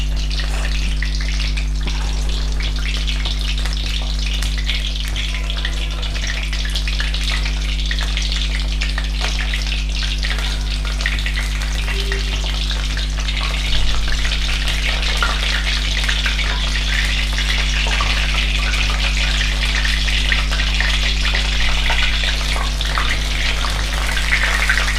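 Pineapple jalebi frying in a shallow layer of oil in a pan, a continuous dense bubbling sizzle that stays loud and even throughout over a low steady hum, with no voices.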